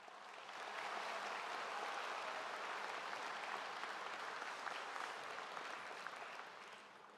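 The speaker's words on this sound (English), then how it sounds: "Another round of applause for Mr. John, please." A high school graduation audience applauds in a large ceremony space: steady, evenly textured clapping that swells in, holds for several seconds and tapers slightly, heard faintly from a distance.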